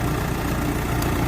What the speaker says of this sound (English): let the machine warm up